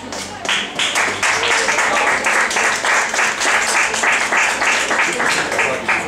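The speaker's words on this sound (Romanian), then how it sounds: "încă o dată mulțumim, aplauze" Audience at a singing contest applauds, loud, dense clapping with a steady rhythmic pulse, as if many hands fall into time together, sustained for several seconds up close.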